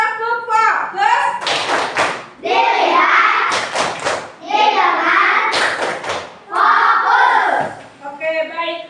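A classroom of children performs a focus clapping routine, loud unison chanting broken by several quick bursts of sharp synchronized claps, close and energetic.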